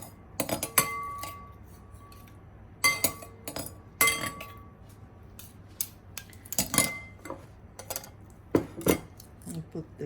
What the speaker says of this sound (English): Now we'll put the ingredients on the serving plate.